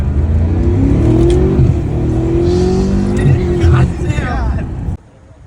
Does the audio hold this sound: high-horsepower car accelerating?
yes